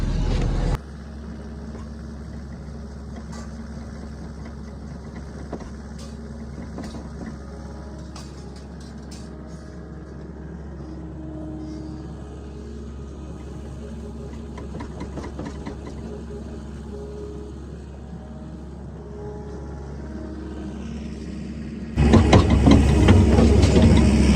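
A skid loader drones steadily on a winter dairy farm in Minnesota, its engine running in a constant low rumble that swells louder near the end.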